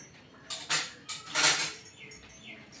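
Snack ingredients with a pinch of salt being stirred and tossed together in a bowl, giving several close, bright clattering scrapes in uneven bursts, with no talking.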